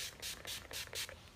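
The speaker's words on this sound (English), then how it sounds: "Let's spray before we walk outside and it all melts off. This is finishing spray," Makeup finishing spray misted close up in four quick, hissing bursts, each short spritz separated by a brief pause.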